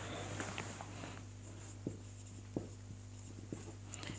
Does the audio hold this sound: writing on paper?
yes